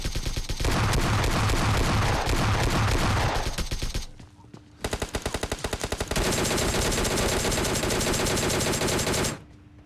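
PUBG Mobile Lite gunfire from a shotgun and an AKM, loud and dense bursts of rapid shots that fill the clip, broken by a short pause near the middle and ending abruptly.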